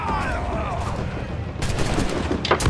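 Ship cannon fire in the pirate game Assassin's Creed IV Black Flag, loud blasts and booming volleys layered over rolling battle noise, with a sharp burst of shots toward the end.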